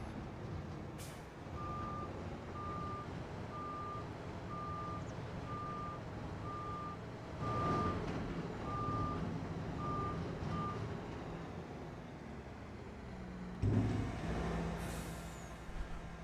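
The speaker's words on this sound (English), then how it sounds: "I've just been backing the trailer in just enough to be able to start unloading" A truck in Farming Simulator 25 reverses a trailer, sounding a steady run of about ten evenly spaced reversing beeps over a low engine rumble, followed by a sharp hiss of air brakes near the end.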